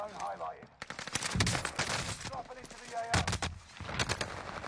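Rapid gunfire bursts in a Warzone Resurgence match, with volleys of shots clustered across the clip and a short lull between them, loud and close, while players talk over the action.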